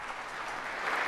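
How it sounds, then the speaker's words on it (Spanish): A congregation claps for the Lord during a Spanish-language church sermon, a short, even burst of applause heard alone. "Dale un aplauso al Señor."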